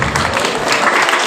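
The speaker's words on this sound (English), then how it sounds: "with a round of applause" A school audience applauds the chief guest in a brief, loud burst of close clapping.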